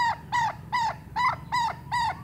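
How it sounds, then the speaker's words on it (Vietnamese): Chickens call from close by in six evenly spaced, nasal squawks that repeat in a steady rhythm, fairly loud over faint background noise. "Được 7 con gà."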